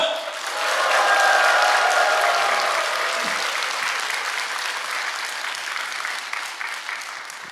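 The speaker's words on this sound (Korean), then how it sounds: "자, 박수와 함께 함성!" Church congregation clapping and cheering during an early-morning prayer service at a Korean church: a full, sustained burst of applause with shouting that swells quickly and holds steady across the room, fading slightly toward the end.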